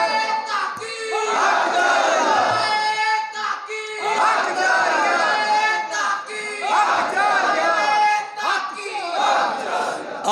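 A crowd at a Jashn-e-Maula Ali religious gathering chants slogans in loud, rhythmic call-and-response waves, four or five swelling shouted phrases with brief dips between them, many voices together and close.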